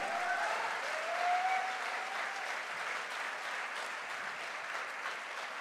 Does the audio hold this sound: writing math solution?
no